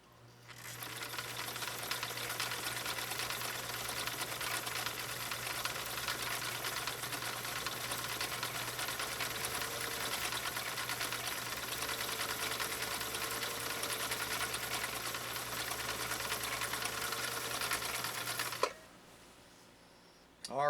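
A 1960 Viking Husqvarna CL-21A sewing machine stitches a single layer of saddle-grade leather, running in one loud, continuous whir for about eighteen seconds before stopping abruptly.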